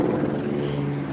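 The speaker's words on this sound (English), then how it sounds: "I just want to see what's up with this helicopter" A low-circling helicopter drones steadily overhead, a sustained low rumble with a faint throbbing pulse that holds fairly loud for the whole short stretch.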